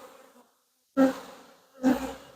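A honey bee swarm buzzes at a hive, with two loud, close surges of droning buzz separated by a brief lull.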